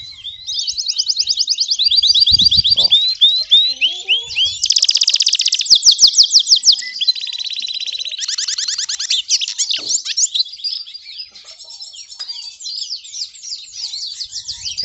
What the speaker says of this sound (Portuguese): já canta os dois cantos. O Pitassilgo e o Canário Belga.